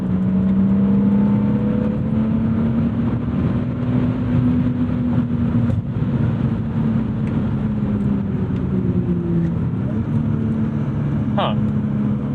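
The inline-six engine of a 1997 BMW E36 M3 sedan with a manual gearbox pulls hard under acceleration, its smooth drone climbing steadily in pitch, loud and close from inside the car.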